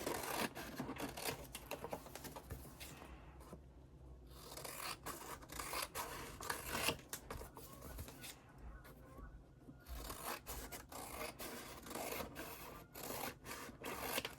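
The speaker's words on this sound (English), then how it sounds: "So let's just trim some off." Scissors trim excess paper from a handmade sketchbook cover during bookbinding, giving quiet, close, repeated snips and papery rustles with brief pauses, and no talking.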